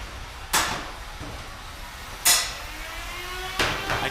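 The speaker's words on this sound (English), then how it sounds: "I can hear that hammer saw spinning." Three sharp metallic impacts from a combat robot's spinning hammer saw weapon at an NHRL 2025 fight, spaced about a second and a half apart, over a steady low hum of arena noise.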